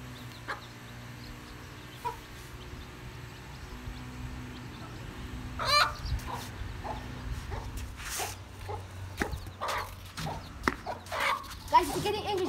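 Angry hen guarding small baby chicks, giving scattered clucks and squawks outdoors, with someone talking over it and some dog-like barks mixed in.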